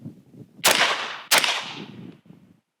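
Two sharp gunshots fired at an outdoor shooting range, loud and close, each cracking out then trailing off, with faint low rumble between and around them.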